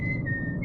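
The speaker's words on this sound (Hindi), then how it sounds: "उसकी सीटी की आवाज गूंज रही थी।" Someone whistles a sustained, steady tone while standing beside a stopped motorbike at the roadside in the silence of night, the whistle carrying clearly over a low background rumble.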